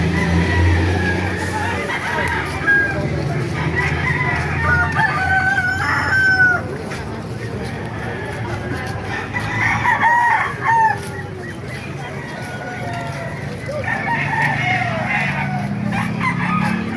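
Roosters crow loudly at the Baliuag pet market, several long cock-a-doodle-doo calls rising over busy market clucking and background voices.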